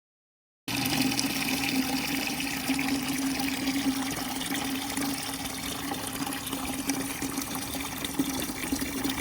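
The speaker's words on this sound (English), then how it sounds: "Let the water drain until the flow slows down" A steady, rushing stream of water draining from a hot water heater tank runs continuously after a brief silent start, loud and close.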